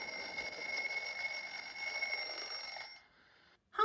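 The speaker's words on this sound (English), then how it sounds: "That alarm clock is ringing at 8:30 in the morning." An alarm clock in a kids' TV show rings with a rapid, steady electronic trill for about three seconds, then cuts off, followed by a short silence and a brief new sound at the end.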